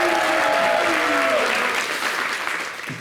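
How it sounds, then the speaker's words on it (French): Studio audience applause on a French local TV show, a dense steady wash of clapping with a voice briefly audible over it early on, tapering off near the end. "C'était très bien, merci d'applaudir."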